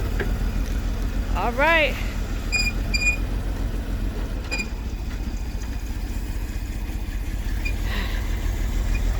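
An old G-body SS car awaiting restoration runs with a steady, low engine rumble throughout, while a person speaks briefly near the start.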